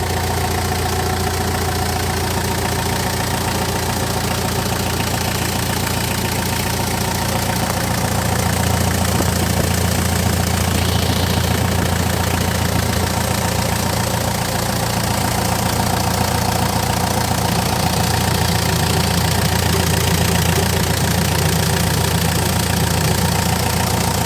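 The DCI diesel engine of a Hyundai Porter truck runs steadily, a loud, even idle with a low rumble and faint clattering knock holding unchanged for over twenty seconds with no voices.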